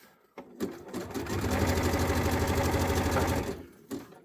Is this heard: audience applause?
no